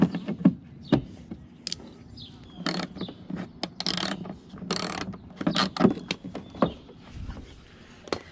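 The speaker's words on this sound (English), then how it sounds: "Just gonna snug these up, make sure they're all tight." Ratchet snugging the 8mm bolts on a BMW F10 front mud flap, a series of short, sharp clicking bursts repeated irregularly through the clip, close and fairly loud.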